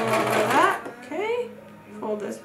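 A sewing machine stitches across fabric mask layers with an elastic hair tie tucked under the presser foot. Its motor whirs in short, close bursts of rising pitch, separated by brief pauses.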